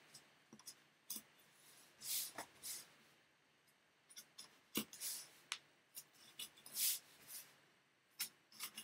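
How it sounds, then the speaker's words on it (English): Cardboard corners being cut by hand, quiet intermittent snips and scraping rasps arriving in irregular short bursts with pauses between them, close and soft. "And now I'm going to cut the corners out."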